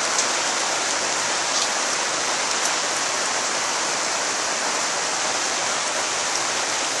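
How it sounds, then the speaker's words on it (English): Steady light rain patters down evenly, a soft continuous hiss with no voices or other sounds. "So we got a little bit of rain coming down."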